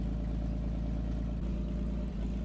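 A Farmall 560 tractor engine in Farming Simulator 19 runs at a steady idle, a continuous low, throbbing rumble with no variation and no talk.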